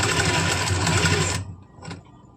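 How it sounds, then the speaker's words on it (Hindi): Sewing machine stitching small stitches around a kurti collar with buckram, a steady loud whirring run that stops abruptly, followed by a brief faint clunk. "यहाँ से पूरे में छोटे टांके की सिलाई लगा देंगे"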